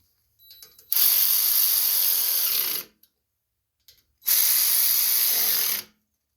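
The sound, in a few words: ratchet tightening carburetor bolts on Briggs & Stratton snowblower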